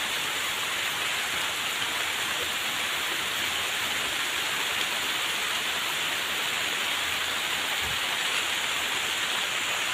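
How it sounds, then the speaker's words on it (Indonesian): Heavy rain pours steadily over a forest, a dense, even hiss of drops on leaves and ground that stays constant from start to finish with no voices. "karena ini teh hujannya semakin besar"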